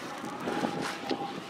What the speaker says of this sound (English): It is windy again, of course,